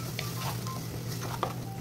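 Macaroni sauce with tomato paste sizzles in a pan while being stirred, a steady frying hiss with soft scraping stir strokes, close and alone.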